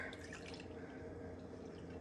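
Milk pouring into a mixing bowl, a faint steady liquid stream splashing softly throughout, with no talk.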